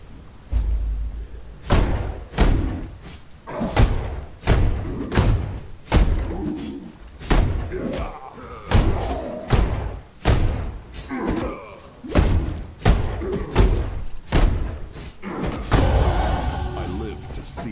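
Doors slam repeatedly in the video game Path of Exile, about a dozen heavy booming thuds at roughly one-second intervals, each loud and close with a short tail, under faint background game sounds.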